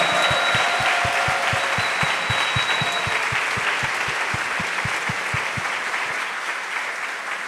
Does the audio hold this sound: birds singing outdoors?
no